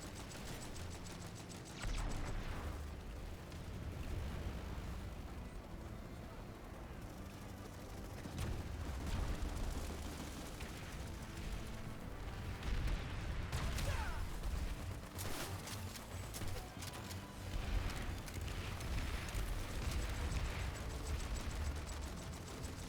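Battle noise from PlanetSide 2 keeps up a near-constant din of gunfire and blasts, with dense bursts and heavier booms. A frag grenade blast falls somewhere in the mix but does not stand out clearly.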